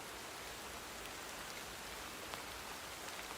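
Soft, steady rain patters on leaves, a dense even hiss of countless small drops heard faintly with no other sounds.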